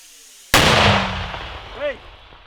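A single sharp, loud artillery blast erupts suddenly after near-silence, then rumbles and decays for a couple of seconds, with a faint voice briefly audible in the tail. Fired near Bakhmut.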